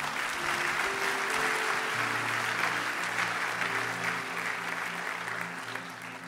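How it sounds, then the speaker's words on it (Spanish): A church congregation claps together in sustained applause while a sustained keyboard or organ tone plays underneath, the clapping broad and continuous throughout. "Denle un aplauso al Señor."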